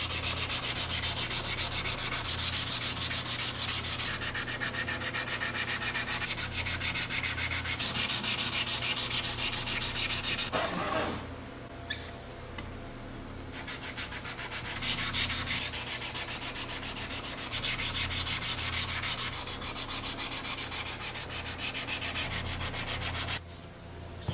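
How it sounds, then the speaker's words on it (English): A chisel is sharpened on a wet 1000-grit water stone, heard as a close, loud, continuous scraping rub in long back-and-forth strokes, with a brief lull near the middle before the grinding resumes. "the water stones need water to work correctly and keep the pores from clogging up with all these little metal bits"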